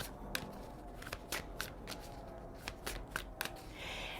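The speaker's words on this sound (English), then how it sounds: "I'm going to shuffle and we'll pull the angel number" A deck of tarot cards is shuffled up close in quick riffling bursts, with repeated crisp flutters and soft slaps of card edges in a steady, busy rhythm, no voice heard.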